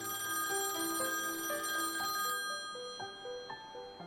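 A telephone rings with a bright electronic trill, repeating in short bursts that fade slightly toward the end.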